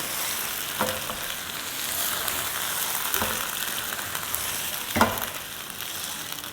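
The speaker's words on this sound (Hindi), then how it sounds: "दही के साथ भूनते हुए 2-3 मिनट हो गए हैं" Chicken pieces fry with yogurt in a pan for tawa BBQ chicken, giving a steady close sizzle with a few scraping stirs spaced through it and no talk.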